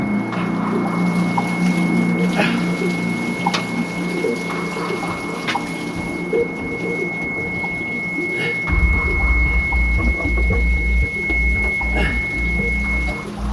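Water gushes steadily into a boat through a broken through-hull fitting, a loud close rushing and splashing with scattered drips and clanks, the flow deepening into a heavier low rumble partway through.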